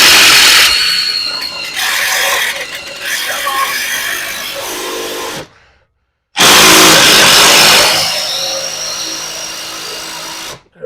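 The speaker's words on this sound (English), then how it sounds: "Gonna drill it in there." A power drill whirs into an RV storage box built from scrap for sewer hose and fittings, two loud close bursts of high spinning motor noise with a short silent gap between them.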